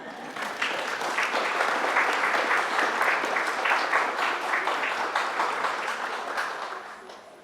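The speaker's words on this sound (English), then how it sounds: "Please give yourselves a winter holiday round of applause." A gathered audience gives a warm round of applause at a winter holiday event. Clapping builds quickly, holds loud and even for several seconds, then gradually thins and fades toward the end. No voices rise above it.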